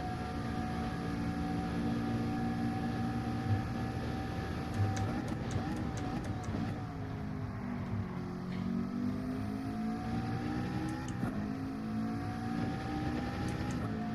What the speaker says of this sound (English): Just hit the rev limiter.